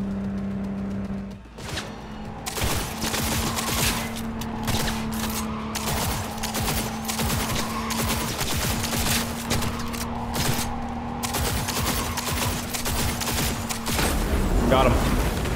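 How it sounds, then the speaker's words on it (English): Rapid bursts of gunfire from a firefight in the video game Cyberpunk 2077, dense volleys of shots over a steady engine-like hum and game music, with a player talking excitedly throughout. "let me shoot him again"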